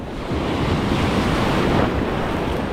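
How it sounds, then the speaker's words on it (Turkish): Big ocean waves roll and crash in a continuous roar at Kuta Beach, Bali, loud and close, with wind buffeting the microphone. "Büyük dalgalar geliyor."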